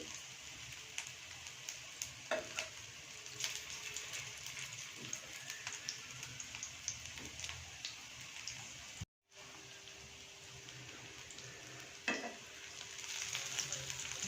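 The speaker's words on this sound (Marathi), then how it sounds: "थोडंसं ते फ्राय होऊ द्यायचं आहे. जर आपण लगेच त्याला पलटी केलं तर ते खाली चिटकेल." Poha frying in a pan for a quick breakfast, giving a steady soft sizzle throughout with occasional scraping stirs, a brief break partway, then the frying resumes.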